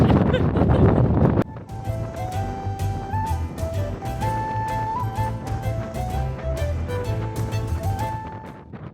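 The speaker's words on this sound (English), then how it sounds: "Very windy." Strong wind on Arthur's Seat in Scotland buffets the microphone in a loud rumble, then gives way to a steady music-like tonal texture with gusty low roar continuing throughout.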